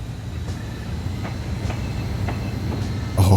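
A new passenger train runs in the railway-building game Mashinky, a steady low rumble with rhythmic clickety-clack wheel beats over the rails and a louder burst at the end.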